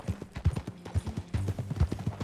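Horse hooves clip-clop at a steady riding gait in Red Dead Redemption 2, the regular thuds close and clear, with faint game sounds beneath.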